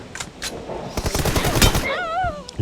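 Rapid bursts of video game gunfire crackle in a dense volley, then a whistling, warbling tone rises and falls at the end; a voice briefly interjects.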